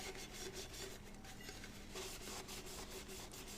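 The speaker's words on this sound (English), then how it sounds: "I'm just going to rub that acetone on the inside of this cup" Acetone is rubbed around the inside of a tumbler cup, making a faint, continuous, steady scrubbing and rubbing sound with no one talking.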